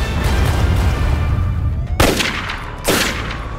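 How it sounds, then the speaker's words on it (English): Two sharp gunshots crack out in quick succession over a loud rumbling background. "Shot fired."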